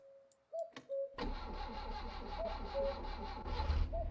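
Car engine cranking and catching on ignition in My Summer Car, a few clicks and chimes, then a steady, rough mid-pitched engine drone that keeps running with a rhythmic pulse.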